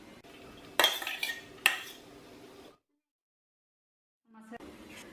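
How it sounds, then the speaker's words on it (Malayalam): Cooked rice for a tomato egg rice dish goes into a pan and gets stirred. A spoon clatters sharply against the metal twice, then softer scraping follows, a pause of near silence, and more stirring at the end. "ഇപ്പോൾ നമ്മൾ തയ്യാറാക്കി വെച്ചിരിക്കുന്ന റൈസ് മുഴുവനായിട്ടും ഇട്ട് കൊടുക്കുകയാണ്"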